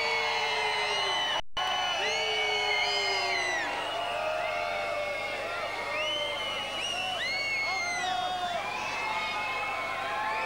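Audience in a gymnastics arena at the 1995 Rhythmic Gymnastics European Championships raising a sustained roar of whistles, whoops and shouts, dense and continuous with rising and falling cries throughout, apparently protesting a score.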